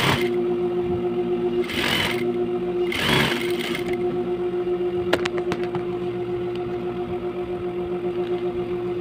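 A sewing machine hums steadily while stitching an all-purpose grocery bag, its drone running throughout with brief louder bursts early on and a few clicks partway through.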